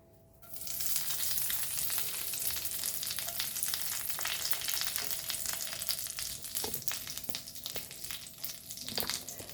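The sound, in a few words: curry leaves added to hot oil, sizzling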